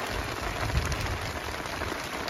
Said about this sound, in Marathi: पाऊस तर सकाळपासून फुल जोरात पडता